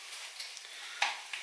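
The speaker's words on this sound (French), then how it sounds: "Je fais revenir des oignons dans du beurre, mais là comme je mets des lardons" Onions softening in butter with lardons in a pan, a steady soft sizzle with a faint utensil tap or two, close and fairly quiet.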